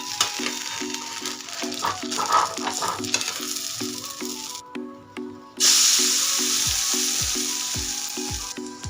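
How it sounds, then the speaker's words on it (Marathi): Besan-coated bread fries in oil on a pan over medium gas, a loud continuous hiss with a rhythmic ticking pulse, rising to a sharper sizzle after a brief burst of spraying. "याच्यावरती झाकण ठेवून मीडियम गॅसवरती छान असं आपण बेसन ब्रेड वाफवून घेऊया"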